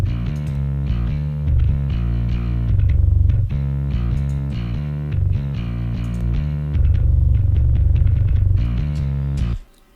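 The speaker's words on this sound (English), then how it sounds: "Next thing I use is the Max Bass plugin from Waves." Metal bass guitar run through the Waves Max Bass plugin, a thick, distorted low tone playing a steady riff of repeated picked notes, loud and continuous for nearly ten seconds before cutting off.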